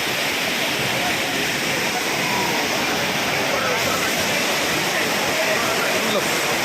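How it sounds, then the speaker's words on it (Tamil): Courtallam main falls pours with a loud, steady broadband roar that fills the whole stretch, constant and close with no pauses, and faint voices are buried beneath the rushing water. "குற்றாலம் மெயின் அருவியில் இருக்கோம்."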